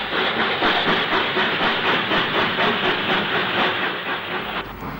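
Steam locomotive Clun Castle arriving at Bicester North on the 1960s Paddington to Banbury service, with a rhythmic chuffing beat and hissing steam, plus clattering wheels, loud and close, easing off near the end.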